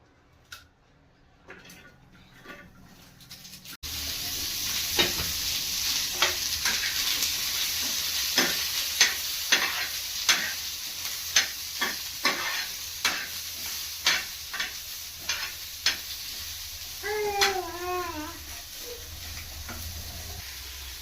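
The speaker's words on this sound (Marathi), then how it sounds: "कांदे, अद्रक, लसण आणि सांबारचे देठ घेतलेले आहे मी. याला आपल्याला मस्त भाजून घ्यायचं आहे." Onion, ginger, garlic and coriander stems roast on a hot griddle, a steady close sizzle that starts abruptly after a quiet opening, with repeated sharp scraping ticks from stirring and a brief squeaky chirp near the end.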